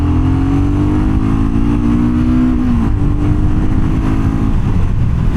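A BSA Goldstar 650 motorcycle engine on a test ride, loud and close, revving with a rising pitch that climbs, drops, then climbs again under steady road and wind rumble.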